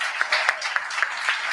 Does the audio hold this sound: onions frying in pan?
no